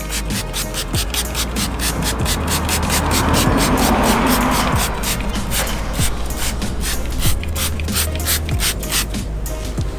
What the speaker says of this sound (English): Anyways, we're still spraying it.